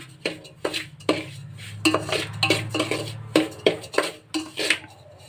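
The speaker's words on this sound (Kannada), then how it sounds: "ಇದು ಸ್ವಲ್ಪ ಈ ಥರ ತುಪ್ಪ ಹಾಕೊಂತ ಫ್ರೈ ಮಾಡ್ಕೊಳ್ಳಿ" Semolina being fried in ghee in a pan for ladoos, with a spoon scraping and knocking against the metal in a quick, irregular series of loud, close strokes over a steady low stove hum.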